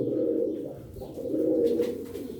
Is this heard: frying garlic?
no